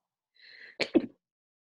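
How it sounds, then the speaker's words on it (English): A single sneeze up close: a brief breathy intake followed by a sharp, explosive burst, then silence. "I'm gonna sneeze."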